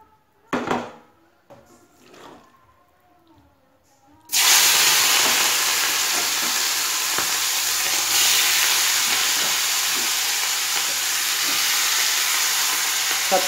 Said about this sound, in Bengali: সব চিংড়ি মাছগুলো প্রথমে আমি ভেজে নেব।